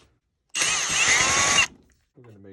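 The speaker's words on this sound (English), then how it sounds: "we're going to drill this out" A power drill bores out a worn fishing reel line guide in one loud, close burst of about a second, whining steadily before cutting off, followed by a brief voice.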